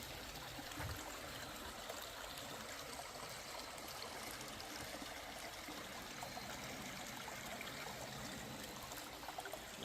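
A small creek in Fall Creek Falls State Park, Tennessee, flows with a continuous, even trickling and rushing of water, faint but steady throughout with no voices.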